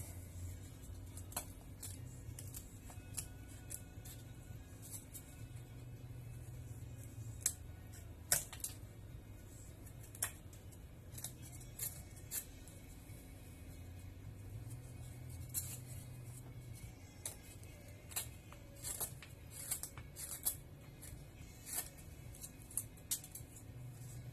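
A broc knife carving a wooden net needle, with scattered small scraping clicks and ticks over a low steady hum, quiet and close.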